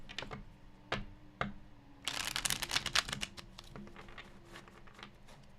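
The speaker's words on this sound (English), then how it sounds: "Last shuffle." Tarot cards being shuffled close by and faintly, with a few sharp flicks and taps followed by a denser burst of riffling card sounds, and no talking.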